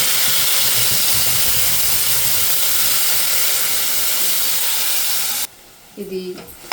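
Ground mint paste fries in a pan with a loud, dense, steady hiss for about five seconds. The sizzle then cuts out abruptly, leaving a brief quieter stretch with a few faint clatters.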